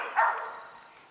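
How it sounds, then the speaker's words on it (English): A hunting dog bays at a treed animal some distance away in the woods, a single faint bark that trails off into quiet. "Dog sound like her treeing, not too terribly far."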